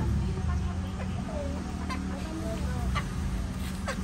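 Chicks and chickens on a farm, clucking and peeping in short scattered calls over a low steady background hum, moderately near.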